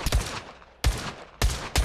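Gunshots fired at targets in the VR shooter Pavlov Shack: four sharp, loud single shots spaced irregularly, each with a short echoing tail and quiet gaps between.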